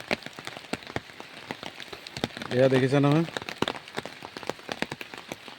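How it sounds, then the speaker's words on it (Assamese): Rain patters steadily on a surface, a dense crackling hiss of drops that continues throughout, while a person speaks briefly over it midway. "বেলেগ ধৰণৰ বৰষুণ মানে পৰিব লৈছে।"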